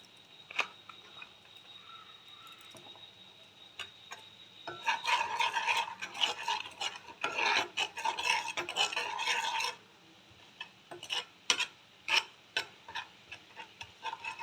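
Turmeric, salt and Kashmiri red chilli powder sautéed in a pan, heard as dry rasping and scraping stirs in bursts with ticking taps, fairly close and moderately quiet, no talk.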